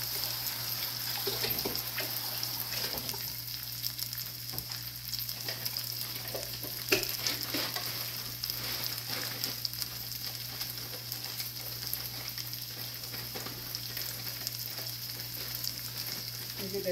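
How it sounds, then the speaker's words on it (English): Garlic frying gently in a pan with a little oil, a soft, continuous crackling sizzle heard close but fairly quiet and steady throughout, over a faint low hum, with no voices. "You get that garlic warmed up and smelling good."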